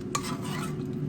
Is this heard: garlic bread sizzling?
yes